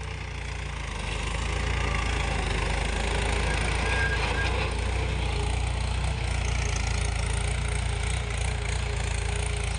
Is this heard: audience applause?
no